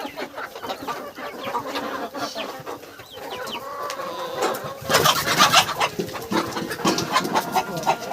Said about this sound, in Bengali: কত সুন্দর কালার দেখুন মুরগিগুলো, সত্যি বিভিন্ন কালারের মুরগি আছে এখানে।